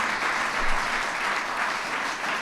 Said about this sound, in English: Give Kevin a big round of applause.